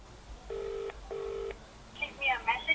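Telephone dialing tones, two clear electronic beeps in quick succession, followed by a voice starting to speak.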